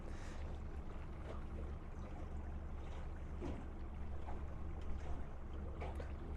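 A new Yamaha 115HP outboard motor on a 2002 Alumaweld 18ft Super Vee boat hums steadily as it runs on the water, a constant low rumble mixed with wind and water wash, with no pause.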